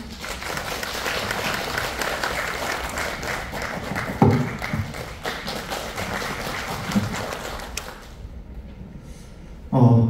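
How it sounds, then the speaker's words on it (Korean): A seminar audience on urban redevelopment gives dense, sustained applause to welcome a professor to the stage, with a few thumps, before the clapping tapers off near the end. "여러분 큰 박수로 모시겠습니다."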